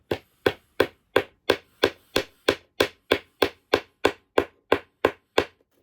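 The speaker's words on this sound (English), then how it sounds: "So I'm gonna have to pop this thing down in here with the hammer." A hammer taps a part down into place on a 1988 Grigley, striking about sixteen evenly spaced, sharp, close blows in a steady rhythm with nothing else heard.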